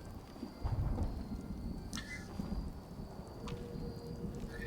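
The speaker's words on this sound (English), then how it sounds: "I can hear rain, can't I?" Rain falls steadily with deep rolling thunder in Fallout 4, low rumbles swelling over a constant patter, fairly quiet overall.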